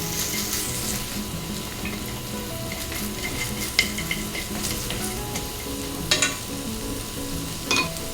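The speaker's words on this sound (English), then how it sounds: "Then, raise the heat to medium. Add the eggs and pork. Stir fry everything together." Eggs and pork being stir-fried over medium heat for Japanese fried rice, a steady sizzle with occasional clinks of a utensil against the pan.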